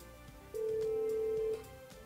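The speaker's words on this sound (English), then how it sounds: "Dial the number you want to transfer to and pause until the call auto-dials." A Yealink desk phone auto-dialing a call transfer gives one steady electronic tone for about a second, faint and even, over a low background hum with no speech.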